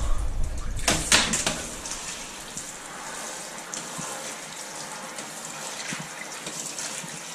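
Wet socks soaked in water, with a brief loud splash and gush of water near the start followed by fainter dripping and trickling, close up with no speech.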